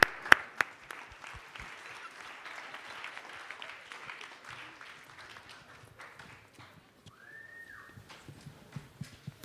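A student audience at the Aspen Challenge 2015 event claps for a Denver Center for 21st Century Learning team coming on stage. The clapping is scattered and fairly quiet, with sharp separate claps that thin out, a short lull, then a brief tone.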